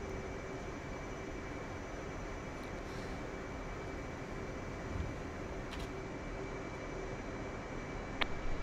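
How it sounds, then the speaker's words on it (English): Aircraft engine drones steadily while taxiing across a carrier deck toward catapult 4 in the DCS flight simulator, a constant broadband roar with no voices. "I think I'll taxi over to catapult 4 this time."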